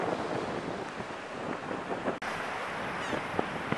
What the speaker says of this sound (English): Now, Mike, I know it's windy